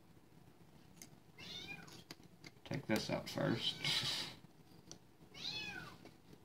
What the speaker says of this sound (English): I don't know if y'all can hear that cat fussing in the background either